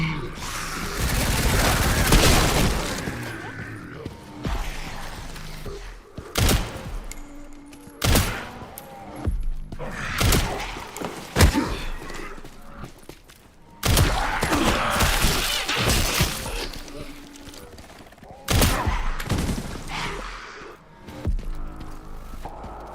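Bursts of gunfire from zombies in Resident Evil Requiem come in loud, separated volleys with sharp cracks and thuds between quieter gaps.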